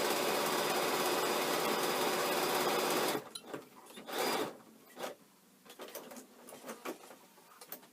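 A sewing machine stitching down a side seam, a loud steady mechanical whir for about three seconds, then stopping, followed by quieter rustling and handling of fabric.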